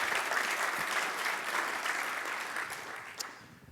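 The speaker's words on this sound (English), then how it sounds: "that deserves some applause" An audience at a manufacturing summit breaks into sustained applause, a broad even wash of many clapping hands from a large crowd that fades slightly near the end.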